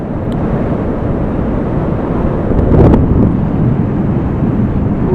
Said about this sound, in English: It always seems quite windy.